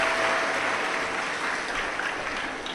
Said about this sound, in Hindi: एक बार जोरदार ताली बजाकर इन सभी यजमान परिवार के लिए साधुता।